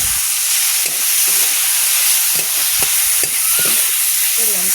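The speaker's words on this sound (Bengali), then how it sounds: "হলুদ দিয়ে ভালোভাবে কষাইতে নেব।" Small fish sauté with turmeric in a hot oiled pan, a loud steady sizzle with a spatula stirring and scraping through it in irregular strokes, close up and with no voices.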